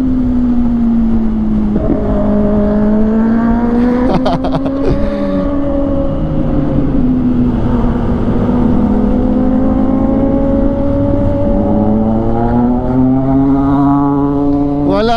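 A scooter engine drones loudly and steadily as it rides along a road and overtakes, its pitch gliding up and down with throttle changes; a brief clatter of passing traffic cuts in near the middle.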